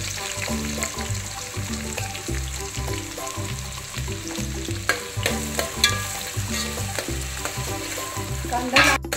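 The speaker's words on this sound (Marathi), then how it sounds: "आणि आता याच्यामध्ये कांदा जो आपण कापलेला होता तो पण याच्यामध्ये घालून चांगला परतून घ्यायचा आहे लालसर." Chopped onions fry in hot oil in a pan for a mutton curry, sizzling steadily and loudly for the whole stretch, with occasional stirring knocks and a steady tonal layer underneath.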